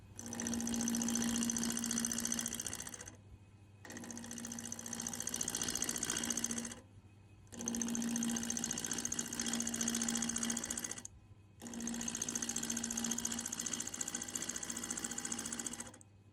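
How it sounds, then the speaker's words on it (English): Bog oak spinning on a wood lathe, fitted with a new set of sharp turning tools, gives a steady whirring hum in four long bursts of roughly three seconds each, with short quiet gaps between them, close and loud. "Let's get a bit of this bog oak mounted on the lathe."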